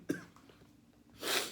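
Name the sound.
coughing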